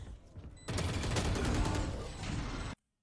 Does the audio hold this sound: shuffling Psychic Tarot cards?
no